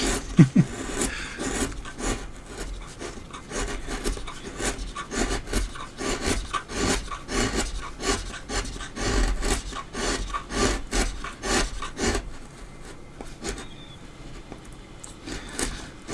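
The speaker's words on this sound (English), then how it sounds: "I'm pushing a chisel like this" A chisel is pushed through wood while carving a dragon figure, giving repeated rhythmic scraping, rasping strokes that are close and fairly loud, with no talk.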